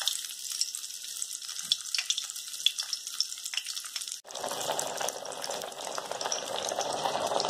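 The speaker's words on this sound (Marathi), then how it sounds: "तेल तापलं काय बघा, एक तेल टाका। पीठ वर आलं म्हणजे आपलं तेल तापलं।" Potato bhaji batter dropped into hot oil for a crisp fasting-style snack, starting as a light bubbling and turning at once into a loud, steady sizzle that carries on alone without a break.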